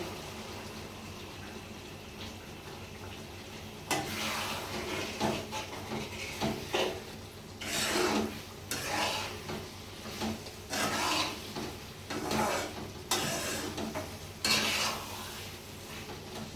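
Cornflour water is stirred into chilli paneer gravy in a home kitchen pan, giving repeated scraping strokes and soft clinks of a utensil against the pan over a quiet background, with no talk.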